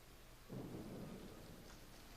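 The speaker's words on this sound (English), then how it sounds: "It's raining outside, son." Steady rain falls outdoors while a low rumble of thunder rolls in and lingers, a continuous wash of rainfall heard from indoors with the thunder swelling then slowly fading.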